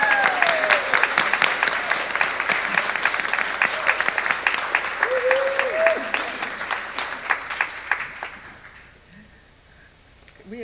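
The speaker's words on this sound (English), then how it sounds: "I invite you to welcome our new members with a round of applause" A congregation welcomes new members with a long round of applause, many hands clapping steadily before it thins and fades to near quiet, with a voice faintly heard during it.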